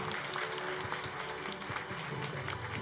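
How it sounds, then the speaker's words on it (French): An audience at the opening ceremony of a business forum claps for the event's patron, a dense, steady wash of many hands with a faint murmur of voices underneath. "On peut l'applaudir."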